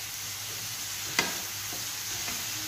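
Red peppers and vegetables fry in a little oil in a pot, a steady sizzle with occasional stirring clinks and scrapes, close and constant.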